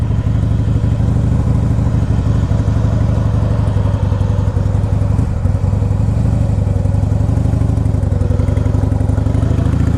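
A 2002 Harley-Davidson Heritage Softail rumbles loudly and close up while being ridden, its deep, steady engine pulse holding an even rhythm throughout.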